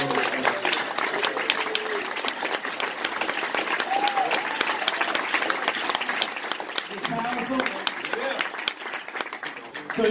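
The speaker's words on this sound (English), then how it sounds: "Clap your hands if that makes sense." A live audience at a motivational speaking event claps hands in steady, dense applause lasting about ten seconds, with voices faintly mixed in.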